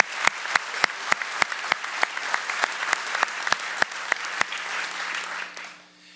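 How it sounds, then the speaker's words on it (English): Applause for a high school sports awards team at a dream team ceremony: an even roll of clapping with distinct sharp claps standing out at a regular pace, fading out at the end. "Let's give one more round of applause for the 2013 Golf Dream Team."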